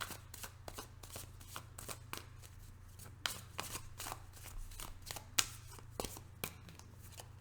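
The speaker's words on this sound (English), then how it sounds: "Off the top of the deck, 2 more shuffles." A deck of tarot cards is shuffled by hand in a quiet room, a close, soft run of rapid riffling flutters and light slaps repeating throughout.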